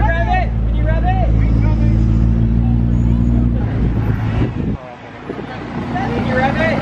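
At a car meet, a McLaren P1's engine gives a loud, close, low rumble under crowd chatter and nearby voices. It dips briefly, then builds again.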